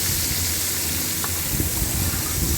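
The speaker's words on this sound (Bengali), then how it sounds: "এবার একটা প্যানে আমি বাটার দিয়ে সবকটা ইনগ্রিডিয়েন্টসগুলো দিয়ে দিলাম আর ভালো মতো ভাজা করে নিই।" Pasta ingredients fry in butter in a pan, giving a steady, close sizzle and hiss that runs unbroken through the clip, with no voices.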